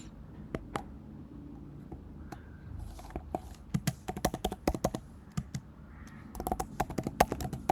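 A computer keyboard is typed on up close to enter a terminal command, with bursts of quick, uneven key clicks and short pauses between them.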